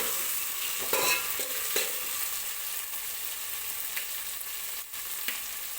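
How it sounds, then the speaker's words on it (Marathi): Tomato frying in oil in a pan for veg pulao, a continuous soft sizzle with occasional scraping stirs of a spatula, close and steady, no voices. "एक 2-3 मिनिटे मी फक्त टोमॅटो अगोदर भाजून घेणार आहे तेलामध्ये"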